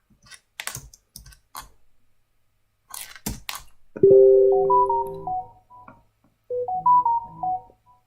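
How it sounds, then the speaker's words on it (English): A mobile phone ringtone plays its melodic tune twice in a quiet room, loud and close, following bursts of computer keyboard typing during a live trading session. "They're trying to turn off that phone."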